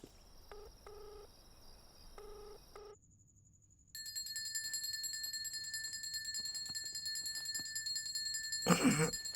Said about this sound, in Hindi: अबे तेरा फोन बज रहा है,